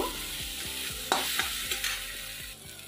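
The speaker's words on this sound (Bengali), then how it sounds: "দিয়ে ভালো করে মশলাটাকে কষে নেব।" Spice paste with Kashmiri chilli being fried and worked in a pan, a steady sizzle with several sharp scraping strokes of a spatula, close by and moderately quiet.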